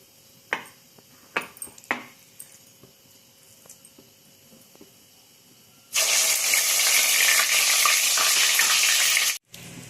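After a few quiet seconds of light clinks, ginger-garlic paste hits hot oil for an egg pickle and erupts into a loud, dense sizzle that roars steadily for several seconds before cutting off abruptly.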